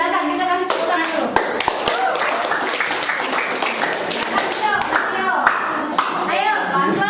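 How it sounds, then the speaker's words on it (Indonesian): A classroom group of children claps together in an Indonesian school lesson, a loud close run of quick, sharp hand claps that goes on continuously, with children's voices mixed in. "silakan kita kasih tepuk tangan dulu"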